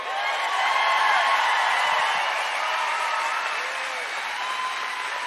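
A crowd at a political rally against Texas redistricting claps steadily, a sustained wash of applause that swells early and then eases slightly toward the end.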